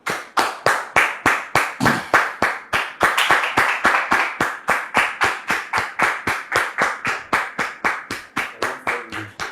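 A studio audience claps loudly in unison to welcome a guest onto the set, keeping a tight, regular beat of roughly three claps per second for the whole stretch without any voices.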